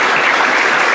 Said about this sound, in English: if we could just get a quick round of applause